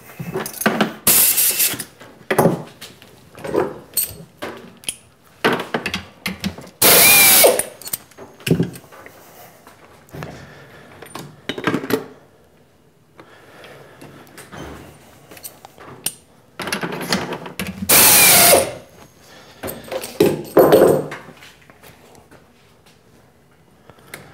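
A 1/4-inch four-flute carbide end mill opening countersinks and holes in a toolpost clamp for a toolpost grinder, with bursts of machine cutting noise, mechanical clicks and pauses between passes, fairly close and loud.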